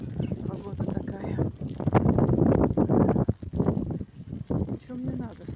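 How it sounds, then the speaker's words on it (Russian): Wind gusts buffet the microphone outdoors on a walk on a rainy April day, producing loud rumbling bursts that come and go while a person talks. "Блин, да сейчас с ветром."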